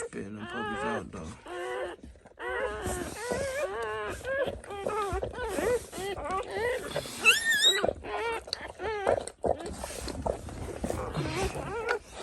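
A dog in labor delivering puppies, giving drawn-out whimpers, moans and high whines, close and fairly loud, mixed with talking throughout.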